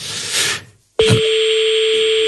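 Telephone dialing for a live call: a brief burst of noise, a moment of silence, then a click and a loud steady tone that holds to the end.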